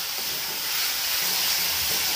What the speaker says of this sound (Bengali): দিয়ে আমি সামান্য একটু জল দিচ্ছি,